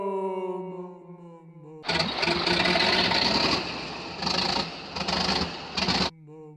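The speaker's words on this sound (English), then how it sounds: "it was basically just a rattly 4-cylinder diesel engine" A Land Rover Ingenium 4-cylinder diesel in a 2021 Range Rover Evoque runs with a loud, rough, rattly drone for several seconds, broken by brief dips, with quiet tonal sound before and after.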